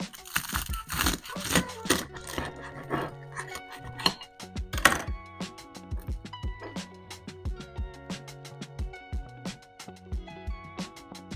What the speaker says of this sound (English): Take a sharp knife and cut it right down the middle.